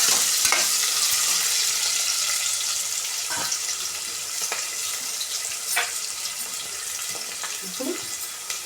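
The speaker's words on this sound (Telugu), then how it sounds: "ఇప్పుడు మళ్ళీ ఒకసారి ఇవన్నీ కలుపుకున్నాం" Pongal ingredients being stirred and mixed in a hot pan, a continuous sizzle with intermittent scraping knocks of a spoon against the pan, close and fairly steady throughout.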